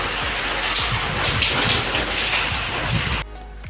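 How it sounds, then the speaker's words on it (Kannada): Heavy rain and strong wind pour down in a dense, steady roar, then cut off abruptly just before the end. "ಗಾಳಿ ಮಳೆ ಜೋರಷ್ಟೇ ಇಲ್ಲಿ"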